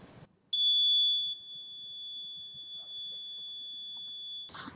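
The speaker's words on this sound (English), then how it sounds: "Turn on the buzzer." A loud, piercing electronic buzzer wired to a Raspberry Pi sounds continuously for a few seconds after a brief click, then cuts off.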